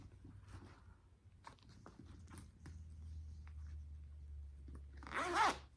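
A zipper on the outside section of a handbag is pulled open near the end, a short close ripping burst after soft handling and rustling.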